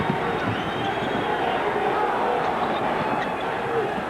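The crowd inside a college basketball arena at a 1997 Wake Forest versus Maryland game keeps up a dense, steady roar of cheering and noise for about four seconds.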